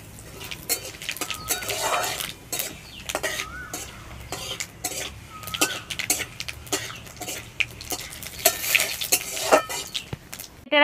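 Whole cumin and radhuni seeds tempering in hot oil in a pan, with repeated metal clatter and scraping of a spoon against the pan over a soft, steady sizzle.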